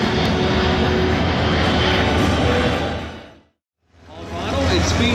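A C-17 Globemaster III military jet transport roars loudly overhead during an air show demo, its engine noise filling the air before cutting off abruptly and then swelling back up.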